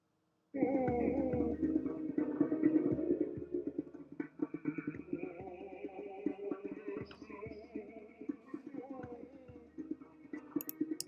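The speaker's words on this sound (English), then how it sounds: "Here's Opera Guy backwards blended with the African drummer, and it sounds like this." Warped, reversed opera vocal tones swell and blur over a layer of African hand-drum hits, the drumming becoming more prominent and choppy in the second half.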